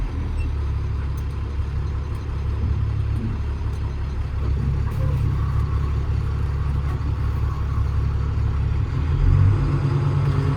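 2010 International 4400 truck with a long wheelbase and spring ride, its engine droning steadily in a low rumble while driving, heard from inside the cab with road noise and no talking.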